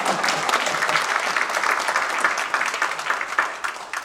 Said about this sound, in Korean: 이건 박수 나와야 되는데요